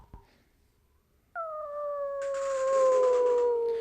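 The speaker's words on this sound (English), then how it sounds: "The baying of wolves sounded nearer and nearer, as if they were closing round us from every side." Wolves howl at night in snowy country, drawn-out harmonic howls starting abruptly and sustained, with a second voice layering in, fairly close and loud with no talking.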